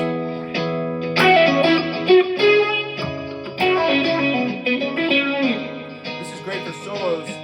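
An electric guitar rings out with distortion and a delayed, echoing sustain, chords and notes overlapping as they fade.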